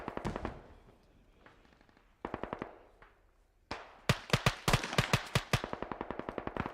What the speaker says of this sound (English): I hear these guys shooting and stuff.